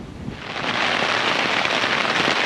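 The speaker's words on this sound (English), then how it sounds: "we're in the midst of the storm" Heavy rain and gusting wind pound a screen tent during a storm at a campsite in Shenandoah National Park, a loud, dense roar that swells after the first moment and stays steady, with no talk.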